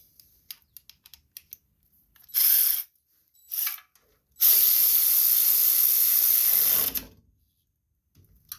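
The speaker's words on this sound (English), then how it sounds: "Once you got it in there, we're going to go ahead and get that tightened up." Ratchet tightening a big bolt on a Briggs & Stratton 5 horsepower engine: a few scattered clicks, two short ratcheting bursts, then one longer sustained run.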